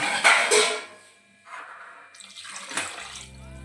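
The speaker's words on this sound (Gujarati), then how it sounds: "તો ફાઇનલી પાણી વેડી દઈએ." Water splashes and pours into a pot in two separate bursts with a brief quiet gap between them, close by and fairly loud.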